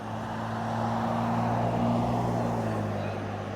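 Road traffic passing along a street, a steady, continuous roar of vehicles with a low engine hum holding throughout, fairly close and loud, with no clear speech over it.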